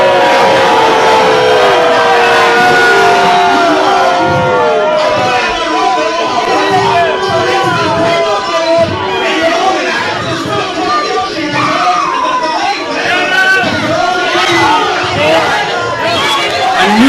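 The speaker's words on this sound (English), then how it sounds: "nuclear reaction from this Greenwood Lake crowd" A packed crowd at a Greenwood Lake independent wrestling show roars, cheers and shouts without letup, a dense, loud wall of voices with individual yells rising out of it.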